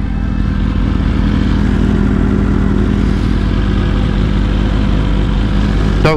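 A motorcycle engine idles steadily and loudly up close at a street bike meetup in Pittsburgh, a continuous low rumble throughout that ends abruptly in a brief rising rev.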